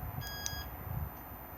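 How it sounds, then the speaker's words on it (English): A caravan alarm key fob gives a single short beep on arming, a faint high electronic tone standing over a steady low background rumble. "one beep and one flash armed"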